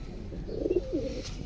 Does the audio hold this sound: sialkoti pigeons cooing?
yes